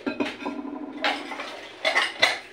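Plates, dishes and cutlery clink and clatter close by while someone gathers them in a home kitchen for an afternoon snack, with several sharp knocks over a steady background hum.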